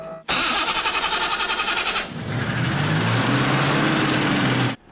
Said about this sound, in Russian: 5 минут дрова прогорают, и мотор старенького немецкого седана оживает